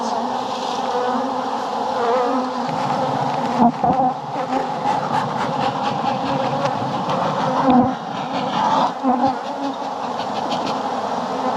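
Dense swarm of honey bees buzzing after being shaken off hive frames, a steady close hum with brief louder swells and faint handling knocks, no voices.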